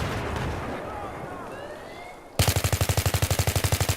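Battlefield 3 gameplay on PS3 opens with distant rumbling explosions and whistling shell noise, then a loud rapid burst of automatic gunfire hammers in a fast regular rhythm to the end.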